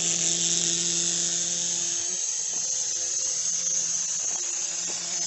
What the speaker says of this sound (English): We'll go ahead and blast it with a little bit of air.